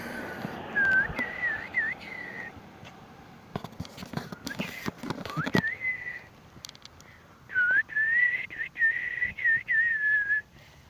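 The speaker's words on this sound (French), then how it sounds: "Si vous avez entendu une musique de fond, en fait, je suis en train de siffler." A man whistles a tune on a forest outing, clear melodic phrases near the start and again toward the end, with rustling and clatter between them and no talking.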